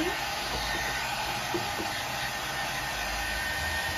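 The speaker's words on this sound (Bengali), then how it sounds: "এখন আমি ড্রায়ার দিয়ে এগুলোকে শুকিয়ে নিচ্ছি।" A hair dryer blows steadily on handmade craft pieces for a DIY LED mushroom lamp, making a loud, continuous close-up whoosh with a faint high whine and no pause.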